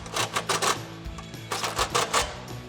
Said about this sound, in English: we're going to swap that 13mm socket back in and tighten up these last 2 bolts on the step